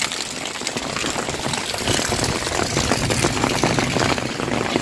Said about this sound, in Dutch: Hier heb je een waterval.